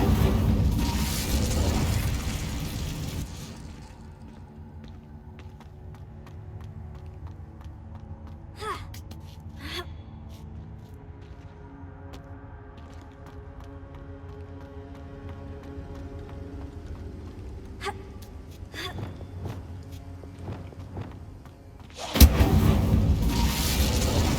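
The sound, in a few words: Incendio fire spell in video game Hogwarts Legacy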